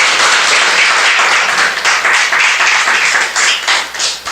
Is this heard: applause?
yes